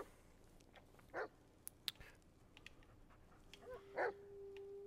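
A dog barks in The Blair Witch video game: two short, distant barks several seconds apart over a quiet, dark ambient background.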